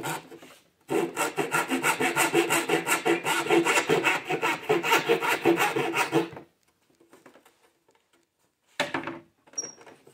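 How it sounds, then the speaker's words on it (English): A hand saw crosscuts waste off a wooden tray piece in steady, close back-and-forth strokes for about six seconds. Scattered faint scrapes follow, then a last short burst of strokes. "I would just assume saw it off. It's gonna be faster. Just get a cross cut."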